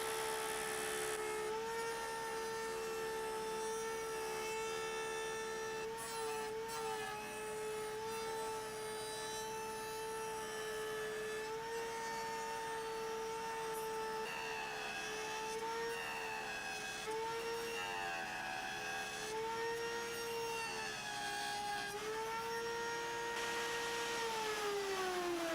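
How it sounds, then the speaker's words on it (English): A flush cutting router bit trims a birdseye zebrawood guitar neck down to its final taper against a glued-on template, giving a steady high-pitched whine that runs throughout with slight pitch dips as the cut loads. "using a flush cutting router bit to get down to the final neck taper"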